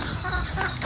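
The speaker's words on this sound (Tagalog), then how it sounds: "Maraming nangingitlog na manok." Free-range chickens on a mixed farm cluck close by, a busy overlapping flock chatter with short rising calls.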